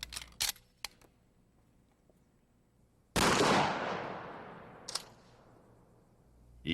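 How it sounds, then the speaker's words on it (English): A shotgun fires a single rifled slug into a mannequin: one loud, close blast with a long decaying tail, after a few earlier faint clicks and knocks. "And finally, the mannequin is shot with a rifled slug."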